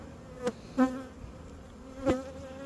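Bees, Italian crossed with Carniolan, buzz steadily around a hive, with individual insects droning close by in a few louder passes against a constant humming swarm.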